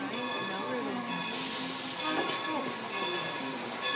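A large train arriving at a station on a Hopewell, Pennsylvania train ride trip, with steady hissing, steam-like noise and a burst of broadband release partway through, heard up close amid crowd murmur.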